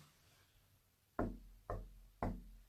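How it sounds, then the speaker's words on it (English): Three firm, evenly spaced knocks on a surface inside a reputedly haunted house in Pontefract, each a sharp, close thud with a short ring, following a quiet stretch with no talking. "and again I'm going to knock."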